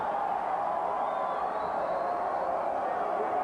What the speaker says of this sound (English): a bit of a derisive cheer coming up from the crowd